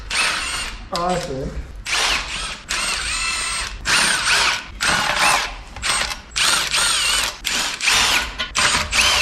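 A power tool loosens bolts on a junkyard 5.3 engine in repeated loud, close whirring and rattling bursts, each a second or so long, with short gaps and a brief spoken remark.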